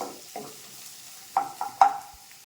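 Onion and peeled garlic sauté in a pan. Several sharp spoon scrapes and clinks ring out over a quiet sizzle, with no voices.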